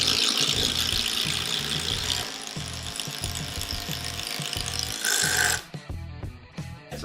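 Brushless power tool driving a 6-inch screw, a steady loud whirring drive with ratcheting clicks for several seconds, ending abruptly with a short squeal and a few fading mechanical clicks.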